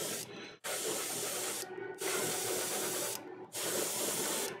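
An airbrush sprays thin red paint onto a Games Workshop Warhammer 40K Magnus the Red miniature. The close, steady hiss is broken by three brief pauses between bursts, with no talking.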